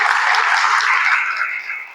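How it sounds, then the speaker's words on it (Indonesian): A classroom of students claps together in a short, steady burst of applause that fades over about two seconds. "tepuk tangan semuanya"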